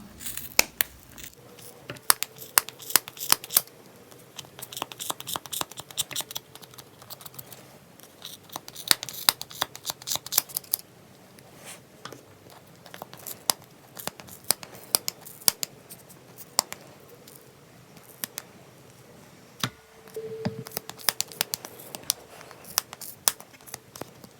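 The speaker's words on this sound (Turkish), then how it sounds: "Makasınızın bayağı bir keskin olması lazım." Sharp scissors snipping through wrapped yarn on a plastic pompom maker, a steady run of close, crisp cuts with brief pauses and some rustling of fibers.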